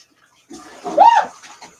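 A kitchen sink faucet fed by a small hot water tank sputters and spits water in a short, uneven burst that swells and fades, close by.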